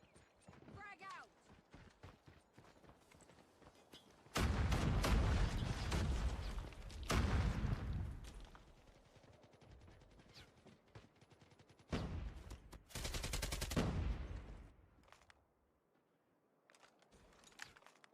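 Grenade blasts and bursts of gunfire in a ranked competitive shooter match with bomb-objective play, heavy loud bursts around the middle and again later, with team voices talking throughout.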